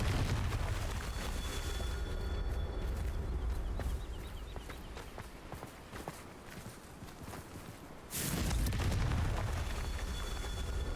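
Confringo blasting-spell explosions in Hogwarts Legacy on PC, loud booming bursts over a dense rumbling game mix, with a big blast near the end.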